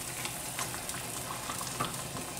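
Poaching liquid for salmon with ginger and green tea boils in a pan, giving a steady close hiss with fine bubbling crackle and no talk.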